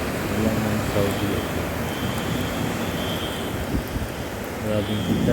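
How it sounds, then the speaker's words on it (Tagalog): A dense, continuous wash of heavy rain noise in Saudi Arabia fills the scene, with a voice talking intermittently over it. "Lakas ng ulan."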